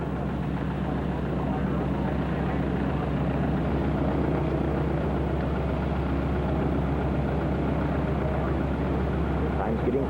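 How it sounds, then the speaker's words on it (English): A North American AT-6 aircraft engine runs nearby on an airfield ahead of a 1994 flying-wing test flight, giving a steady, loud, low droning roar that holds unchanged for ten seconds. "Starting up nearby is an AT-6."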